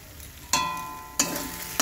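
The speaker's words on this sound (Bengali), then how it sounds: "মশলাটাকে কিন্তু ভালোভাবে কষতে হবে যতক্ষণ না তেল ছাড়ছে" Ground spice paste sizzles and fries in hot oil for a Bengali cauliflower and rohu fish curry, a steady crackle punctuated by three sharp stirring scrapes, close and fairly quiet.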